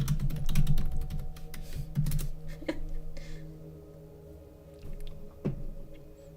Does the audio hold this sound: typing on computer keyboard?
yes